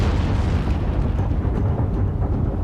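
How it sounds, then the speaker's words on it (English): Dense, continuous rumbling blast from powder bags exploding in the magazines of the battleship USS Arizona at Pearl Harbor, a loud, sustained roar with scattered bursts and pops throughout. "Powder bags from the magazines are blown into the air"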